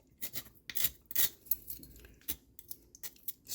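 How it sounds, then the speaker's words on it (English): A spoon scrapes the frozen outer covering off food in short, close, irregular rasping strokes, each brief scratch followed by a pause. "you can just use a spoon and scrape off"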